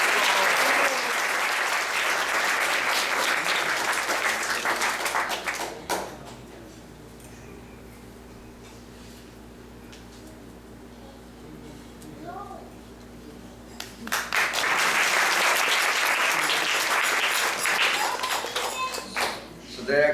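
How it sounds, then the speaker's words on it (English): A temple audience at a Sunday class gives a round of applause for a devotee, loud dense clapping for several seconds, fading to quiet room murmur, then rising again in a second strong burst. "Let's give a round of applause for this wonderful devotee"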